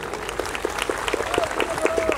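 An audience at a Nepali comedy show claps steadily, with brisk rhythmic hand claps at moderate distance and a voice speaking briefly under the applause.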